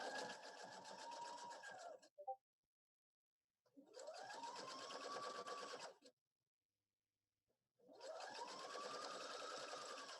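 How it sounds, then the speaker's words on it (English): A sewing machine stitches bias tape onto fabric in three steady whirring runs of about two seconds each, separated by quiet pauses. "I'm stitching close to the edge of my bias tape"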